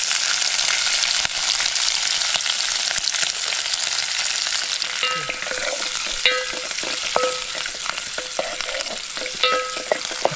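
Whole garlic cloves and chillies fry in a pan at a night campsite, with a loud, continuous sizzle and the scraping of a spatula stirring throughout, and no talking.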